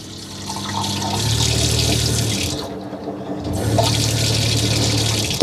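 Water runs from the tap into a small sink in a tiny home's water system, a steady rushing splash that cuts off briefly midway and then starts again.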